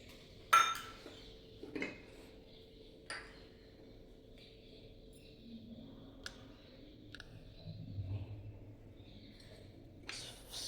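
Peanuts tipped into a bowl of potato mixture for farali tikki give a few sharp clinks and pings against the bowl, scattered and fairly close, with soft rustling between them and no talking.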